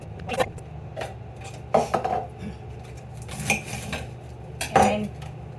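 A knife chops through a big cabbage for sauerkraut, giving irregular crisp cuts and knocks on a board, several sharp strikes spaced apart at close range.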